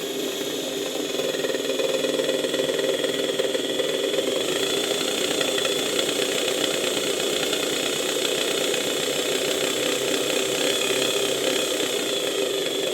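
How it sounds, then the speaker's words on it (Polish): The faulty motor of an old Electrolux vacuum cleaner whirs continuously with a rough, fluttering, uneven texture, running irregularly, steady and fairly loud throughout, no voices. "Ten silnik po prostu nieregularnie pracuje, zwłaszcza jeżeli podniosę nieco napięcie, praca silnika staje się wyraźnie przerywana, nieregularna."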